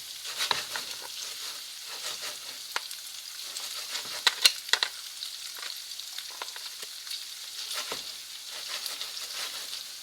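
Costco oriental stir-fry vegetables sizzle steadily in hot oil in a shaken pan, a close, even frying hiss with scattered small pops and no talking.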